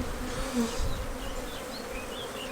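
A steady, dense hum of many honey bees buzzing close by at an open hive, with individual insects droning in and out of the mass.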